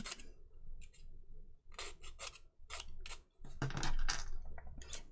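A small plastic part from a Colonial Viper Mk II model kit is ground flat with a file, giving repeated close, raspy scraping strokes in short irregular bursts with brief pauses.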